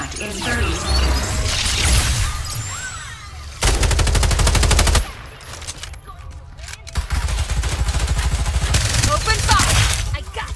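Heavy gunfire in the video game Farlight 84, rapid automatic bursts and single shots crowding together, loud and close, with one long stretch of sustained fire and voices talking over the shooting.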